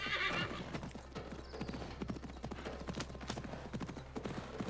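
Horse hooves clip-clop in a steady rhythm with a whinny early on, in the Assassin's Creed Mirage video game, over a low steady background hum.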